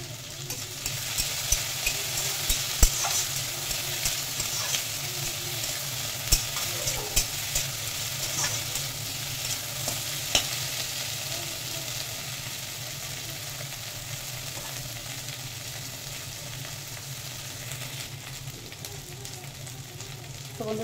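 Eggplant, potato and greens fry in a pan with a continuous bright sizzle, punctuated by occasional clinks and scrapes of stirring, close and steady throughout.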